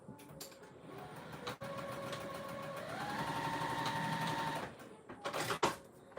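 A sewing machine stitching a quarter-inch binding seam runs in a steady whirring hum for several seconds, rising slightly in pitch midway, with short clicks and bumps at the start and end as fabric is handled.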